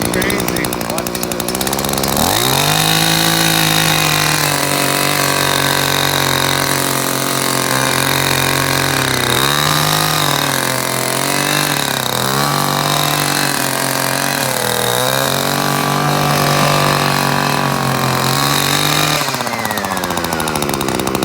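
An Echo SRM-3020T gas string trimmer with gear reduction runs loud and close, revving up and down repeatedly as it cuts, with a voice faintly underneath.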